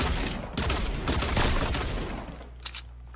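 Dense burst of gunfire in a duos battle-royale video game, rapid overlapping shots and booms lasting most of the moment before fading into quieter background with a couple of final distant pops.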